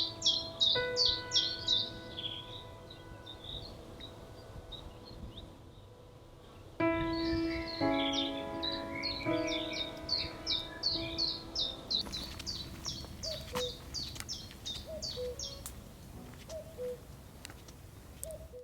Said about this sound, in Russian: Зайдя в лес, вы слышите прекрасную мелодию птиц, и шелест листьев, и веточек.